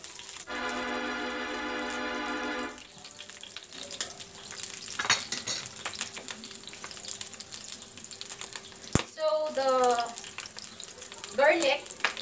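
Garlic fries in a pan, with a dense, even sizzle up front for a few seconds, then quieter bubbling broken by scattered utensil clinks and scraping.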